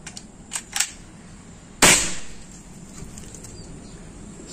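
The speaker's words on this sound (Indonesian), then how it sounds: "Tembakan ketiga" A single sharp gunshot, the third round of a chronograph velocity test, cracking loud and close with a short decaying tail after a few faint clicks of handling.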